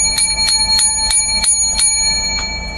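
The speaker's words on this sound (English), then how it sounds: "Now, this is a high quality bell, unlike the other bell that I had from the damn Dollar Tree." A high-quality hand bell rings loud and close, struck in a quick, even series of about eight bright, metallic dings with a shimmering sustained tone between strikes.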